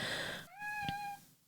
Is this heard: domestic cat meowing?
yes